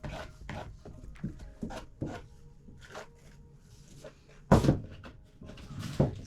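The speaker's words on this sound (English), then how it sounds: "Let's get a spatula and apply the paste." Crackle paste is spread with a spatula in short, scraping and dabbing strokes, close and fairly quiet, with a couple of louder knocks of the tool against the surface.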